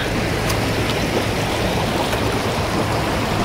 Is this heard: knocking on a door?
no